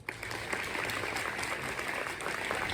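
A Sorbonne audience in Paris applauds to welcome the former prime ministers Édouard Philippe and Bernard Cazeneuve. The clapping is steady and diffuse and sounds somewhat distant.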